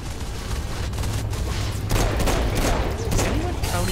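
Rapid bursts of gunfire in the video game Saints Row IV, loud and dense with overlapping shots and booms throughout, over a low rumbling backdrop.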